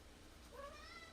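A pet cat named Miso gives a single short, faint meow near the end, rising and drawn out, with no talk over it.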